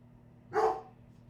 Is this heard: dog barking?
yes